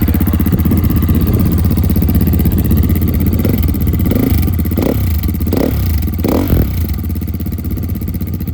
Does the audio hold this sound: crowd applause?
no